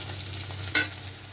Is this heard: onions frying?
yes